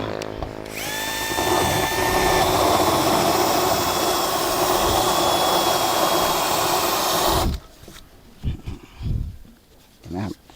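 A power drill with a 10 mm tile bit bores into ceramic tile during a Poly 340 W solar panel installation, a loud steady grinding whine for about seven seconds that then cuts off, leaving faint rustling and knocks.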